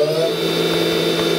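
The spindle of a 2006 Haas EC-300 CNC horizontal mill runs at speed, holding a steady, piercing high whine over a low hum without pause.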